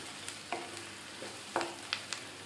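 Onions frying in a pan while cooking an Andhra-style ivy gourd masala curry, a faint steady sizzle with a few soft clicks and stirring scrapes scattered through, no voices.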